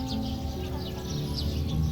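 Birds chirp at the Cagsawa church ruins near Mayon Volcano, a few faint short calls repeating over a low steady outdoor background.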